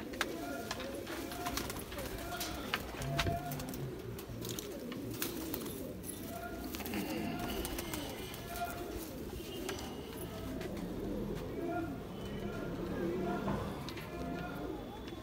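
Pigeons cooing in a busy loft or market, a steady mix of low coos and bird chatter with people talking throughout and occasional hoof-like clops in the background.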